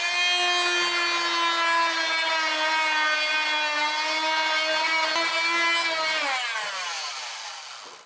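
A tool cutting wood gives a steady, close whining hum for about six seconds, then its pitch sags and the sound fades out as it winds down, with no talking.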